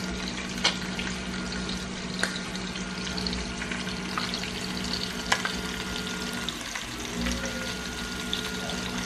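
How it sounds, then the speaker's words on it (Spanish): Meat browning in a hot pan for a Michoacán-style morisqueta meal, sizzling and spattering steadily with occasional sharp pops and stirring scrapes, close and fairly loud, no talking. "vamos a dejar que se dore muy bien la carne"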